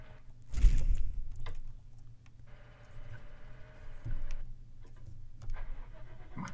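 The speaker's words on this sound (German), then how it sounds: "Ich fahre 70 km/h mit dem Drescher." A combine harvester engine driving in Landwirtschafts-Simulator 17 drones steadily at a low level, with a thump near the start and a brighter mechanical whir swelling through the middle before settling again.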